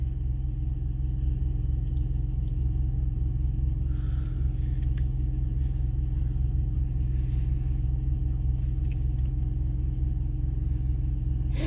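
A 2000-model car's engine drones steadily while driving, with constant low road rumble filling the whole stretch and no one speaking.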